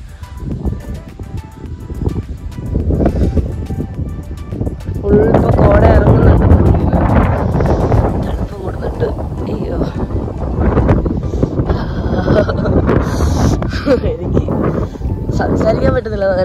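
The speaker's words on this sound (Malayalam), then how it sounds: "നല്ല രീതിയിൽ കാറ്റടിക്കുന്നുണ്ട്." Strong wind gusts buffet the microphone on an open hilltop in Idukki among wind turbines, a heavy low rumble that swells and drops over a long stretch while a person tries to speak through it.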